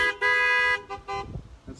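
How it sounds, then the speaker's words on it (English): Car horns honk in a parking lot at a drive-in church service: one long steady blast, then a couple of shorter toots, close and loud. "If you can hear me, you can give a holy honk."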